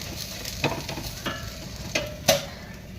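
Dhirde, a mixed-flour pancake with potato, crisps in a pan on a low gas flame, giving a steady sizzle broken by several close scrapes and taps of a spatula.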